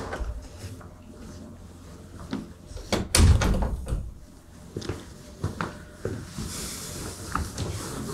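A door in a home opens and closes, a sharp thud and latch clatter near the middle followed by softer knocks and shuffling, close by and moderately loud.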